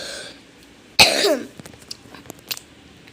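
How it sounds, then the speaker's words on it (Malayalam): One sharp, close cough bursts out alone in a quiet room, followed by faint small noises. "നല്ല ചുമയാണ്."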